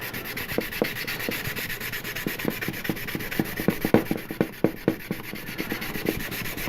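A fine-grit 3M sanding sponge, rated about 320 to 400, rubs back and forth over a metal model piece in a steady rhythm of close, raspy strokes, with no talking.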